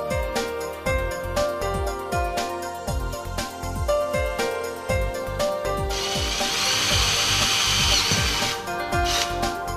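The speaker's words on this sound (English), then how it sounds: "Then make the thread in the holes." A power tool threads holes in a metal gas manifold for a sequential gas kit, running steadily and loudly up close with repeated whirring pulses, then a brighter, harsher grinding stretch near the end.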